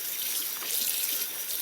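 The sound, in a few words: cool water running from tap to rinse cross stitch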